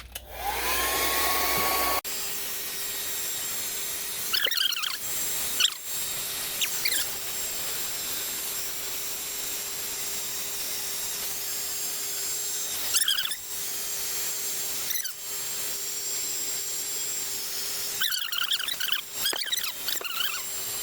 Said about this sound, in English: Tape likes heat. So, hair dryer.